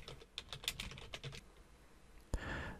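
Quick bursts of keystrokes on a computer keyboard, a cluster of clicky taps in the first second and a half, a pause, then one sharper clack followed by faint hiss.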